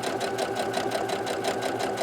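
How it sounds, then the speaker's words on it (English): Sewing machine stitching a fabric face mask with ties and pockets along the edge of the presser foot, a steady rapid mechanical whir with even needle pulses throughout, close and continuous. "so I can just sew along the edge of the presser foot here."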